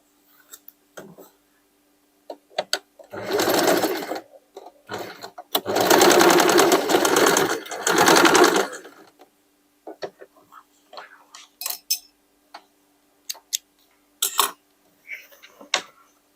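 A domestic sewing machine stitches a pocket onto a denim jacket made from old jeans, running in two close bursts of fast whirring with short pauses, followed by scattered clicks and handling sounds.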